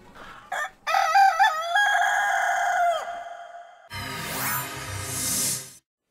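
A Paju Hyeonin native chicken rooster crows loud and close, a long drawn-out cock-a-doodle-doo, followed by clucking and a second burst of fowl calls, with no talk.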